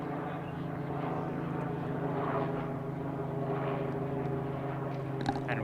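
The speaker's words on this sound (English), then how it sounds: "And we got a chopper over the field." A helicopter passes over a high school varsity baseball field, heard as a steady, fairly loud engine and rotor drone that holds evenly throughout with no voices.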